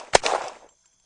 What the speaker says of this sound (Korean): 아, 총소리 졸라 들리다.